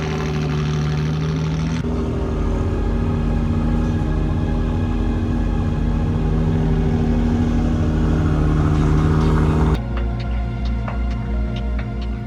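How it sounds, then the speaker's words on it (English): Two Ferraris roll in together at a car meet, a loud, close engine drone with steady rumble that cuts off abruptly near the end, followed by a quieter idle. "So now the two Ferraris are gonna roll in together."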